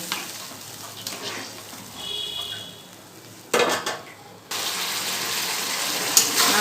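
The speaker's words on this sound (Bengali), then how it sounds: "এবার আঁচটা কমিয়ে মশলাটা একটু ভালো করে কষে নেব" Spice paste frying in a pan on low heat after a splash of water, with a broad hiss and sizzle, clinks of a utensil against the pan and rising, steady frying noise.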